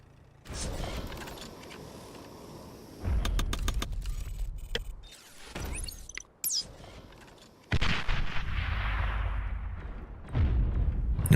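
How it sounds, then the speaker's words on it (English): Artillery shells from StarCraft: Brood War boom in irregular bursts, with sharp explosive hits separated by quieter stretches and heavier, dense blasts toward the end. "he's got some artillery"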